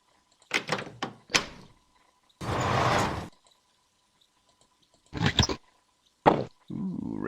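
Door sounds in the video game Geneforge 5, a series of short thunks and clicks with a longer scraping sliding burst, spaced apart against silence, close and clean.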